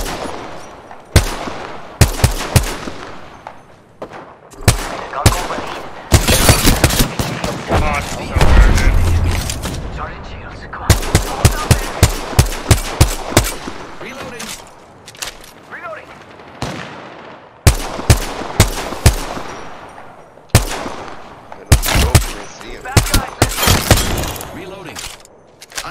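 Video game gunfire rattles in loud rapid bursts and single shots, with automatic volleys and sharp cracks scattered across the clip and no speech.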